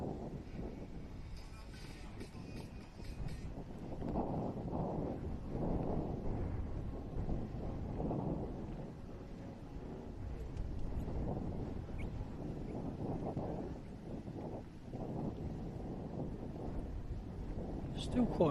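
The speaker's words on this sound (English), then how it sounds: "Still quite breezy out here" Steady low rumbling wind buffets the microphone outdoors at a motor racing event, continuous and broadband throughout, with no clear talk over it.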